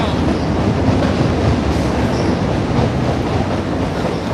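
A train rolls steadily past on the rails in Chicago, loud and close, with a continuous rumbling clatter and no talking over it.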